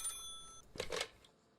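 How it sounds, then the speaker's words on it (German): A telephone rings in the video game Murder in the Alps, a short electronic bell tone cutting off, followed by a faint click as the receiver is picked up. "So, Telefon. Gehen wir ran."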